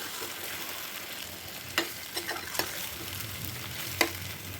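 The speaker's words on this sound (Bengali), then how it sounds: "তো আমি আস্তে আস্তে মাংসটাকে ভালো করে কষবো।" Boiled mutton is stir-fried in a pan of fried spices for kosha, giving a steady low sizzle with a few sharp clicks and scrapes of the spatula against the pan.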